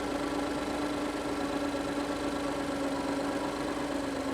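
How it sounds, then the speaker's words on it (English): A Ford V6 EcoBoost engine idles steadily, a quiet, even mid-pitched hum with a constant low vibration, heard close up and alone. "This is a little V6 EcoBoost, so maybe this wouldn't be the perfect vehicle for me."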